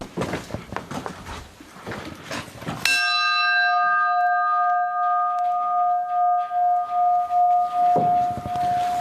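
After a stretch of muffled noise, a church bell strikes once and its tone hangs and slowly fades, ringing out clearly in near silence.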